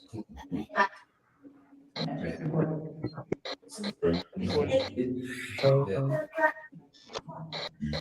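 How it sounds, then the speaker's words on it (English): A bird honks repeatedly in loud, goose-like bursts at irregular intervals, close and prominent, with people chatting around and between the calls. "I don't know what that bird sound is all about."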